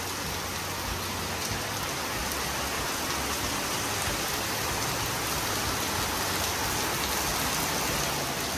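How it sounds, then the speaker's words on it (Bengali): Heavy rain pours steadily outdoors in Singur, a dense, even hiss of water drumming on surfaces that stays loud and unbroken throughout, with no voices. "শুধু ঝমঝমিয়ে বৃষ্টি পড়ছে"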